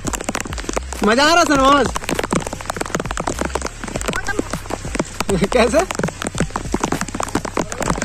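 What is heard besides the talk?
rain falling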